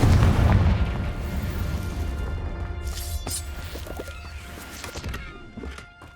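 A fire spell blasts with a loud, booming burst of flame and debris in Hogwarts Legacy combat, opening heavily and then trailing off into scattered crackles and impacts.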